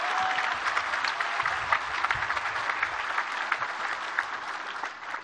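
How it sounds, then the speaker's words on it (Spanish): An audience applauds the president at a public event in Guadalupe, Nuevo León. The crowd's clapping is dense and sustained, holding an even, moderately loud level throughout. "Así que doble aplauso para nuestro presidente."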